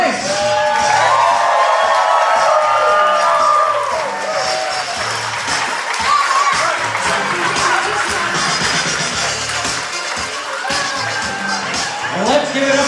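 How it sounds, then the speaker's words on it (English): Wedding guests clap and cheer through a reception introduction, steady dense applause with scattered whoops and shouts, voices mixed in throughout, loud and close, tapering slightly midway then sustained to the end. "A big round of applause for Julia Simonetti"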